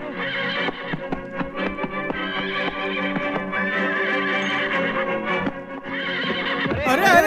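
A mare at a wedding procession for a groom in a dubbed film scene whinnies loudly and at length, the shrill neighing rising and falling, with hooves clip-clopping underneath.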